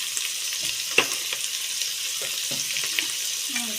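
Vegetable sambar being mixed in a pot with turmeric, a soft steady bubbling hiss punctuated by a few spoon clinks and scrapes.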